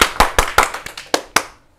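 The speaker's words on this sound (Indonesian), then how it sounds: "Tepuk tangan buat David Nurbianto." Live audience applause at a comedy show for stand-up comedian David Nurbianto, a short burst of about seven sharp, near claps that quickly fades out.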